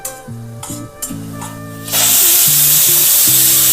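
Split mustard seeds dry-roast in a hot pan over a low flame. A steady, loud hiss starts halfway through and holds, while a simple electronic melody plays before and alongside it.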